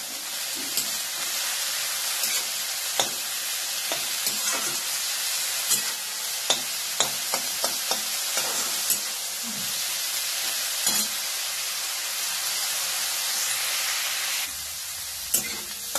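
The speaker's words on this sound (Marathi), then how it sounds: "आपण ह्या दोन्हीला थोडंसं वाफ देऊन घेऊया" Steady sizzling and hissing from leaves steaming in a pan, with scattered clicks and scrapes of stirring, fairly close and continuous throughout.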